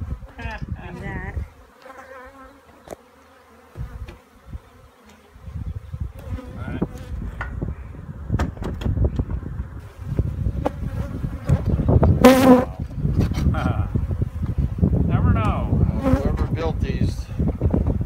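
Wild, aggressive bees buzz in Arizona, a dense insect drone that swells and fades as they fly close to the microphone. Wind buffets and rustling break in here and there, and the buzzing grows louder toward the end.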